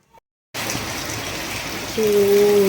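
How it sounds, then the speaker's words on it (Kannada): Heavy rain pours down in a steady, loud, close wash of noise, joined near the end by a sustained tonal hum. "ಇವತ್ತಂತರ ಭಾಳ ಮಳೆ ಆಗೈತಿ"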